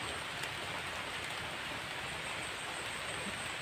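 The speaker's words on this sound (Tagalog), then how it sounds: "Lakas pa ng ulan guys, no?" Heavy rain pouring steadily, a dense, constant hiss of falling water with no voices.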